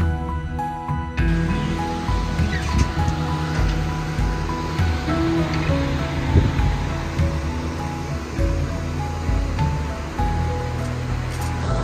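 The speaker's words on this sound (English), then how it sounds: "So we have a three-step waterfall here" A three-step waterfall in Iceland roars as a steady, broad rush of falling water, loud and constant throughout, beginning after a short burst of noise.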